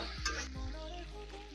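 Pork with turmeric and salt sizzles steadily in a pan, with a few scraping stirs near the start, then a continuous close, fairly loud frying hiss.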